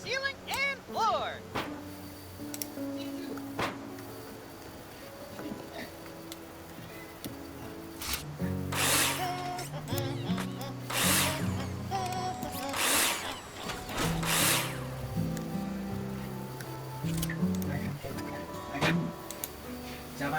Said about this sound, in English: screw them in with a drill